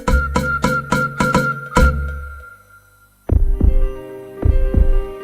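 Heartbeat sound effect in a radio advert: deep, booming lub-dub thumps in a quick run, then a pause and a second slower series, loud and close with no talking.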